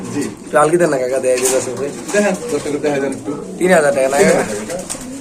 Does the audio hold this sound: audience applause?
no